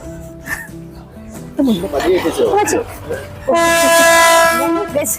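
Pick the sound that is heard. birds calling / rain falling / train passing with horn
train passing with horn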